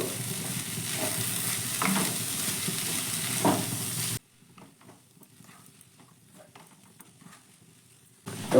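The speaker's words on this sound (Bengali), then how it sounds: "সব কিছু ভালো করে আমি মিশিয়ে নেব" A spiced filling, seasoned with a little cumin powder, is stirred and scraped around a hot pan with a soft sizzle for about four seconds, then drops to faint, sporadic stirring noises before a brief louder burst at the end.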